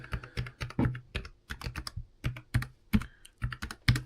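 Rapid computer keyboard typing with irregular clicky keystrokes, close and crisp, ending in firmer presses such as the Enter key, with no voices over it.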